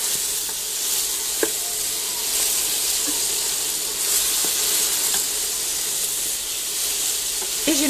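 Apples caramelize in butter with yuzu powder and cinnamon in a pan, a steady close sizzle and hiss with occasional soft pops and stirring clicks.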